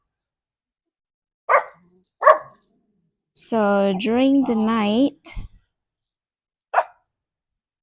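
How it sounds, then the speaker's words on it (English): A few dogs bark in short separate bursts, early on and again near the end, moderately close. A person speaks in between. "because if they bark all at the same time, they're really noisy"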